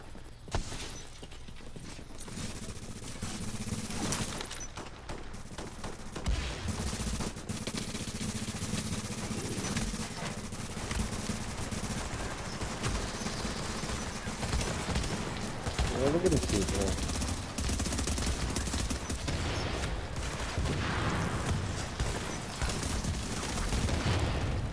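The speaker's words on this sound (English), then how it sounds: "Now I'm getting shot." Gunfire in a video game, steady rattling shots and bursts under a dense battle soundscape, with a player's voice talking intermittently.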